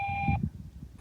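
A burn permit notification answering machine sounds a short, steady electronic recording tone that stops abruptly, followed by faint low background noise on the line.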